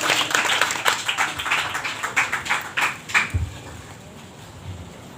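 A crowd at a Quran recital gathering applauds in a brief burst of clapping with a few louder individual claps, fading out into room noise after about three seconds.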